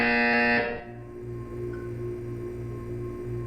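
A loud electronic buzzer tone from the video game Portal sounds for about half a second, then cuts off, leaving a low, pulsing hum of room tone.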